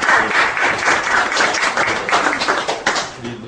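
Audience applause at a Korean panel discussion on overcoming legal alienation, a steady dense wash of many hands clapping together throughout, fairly loud and sustained without pause.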